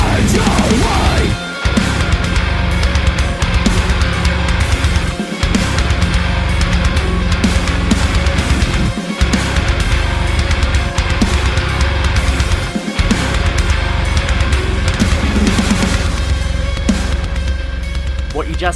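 Dense, loud rock music playing continuously, a full band with heavy low end and brief rhythmic drops where the sound momentarily cuts out.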